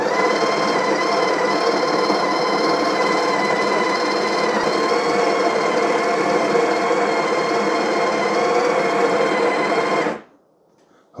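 A Breville BES870XL Barista Express espresso machine grinds beans automatically on the double setting, a loud steady whirring drone that runs for about ten seconds and then cuts off abruptly into near silence.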